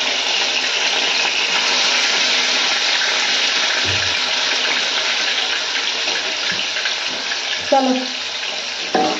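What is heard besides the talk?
washing hands under running tap water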